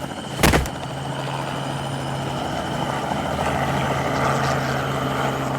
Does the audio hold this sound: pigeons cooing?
no